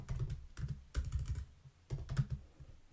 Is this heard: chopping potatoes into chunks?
no